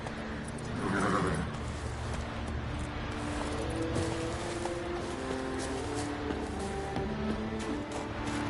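Roach the horse galloping in The Witcher 3, steady hoof rhythm carried under a dense, continuous bed of game ambience and music, fairly loud throughout with no voices.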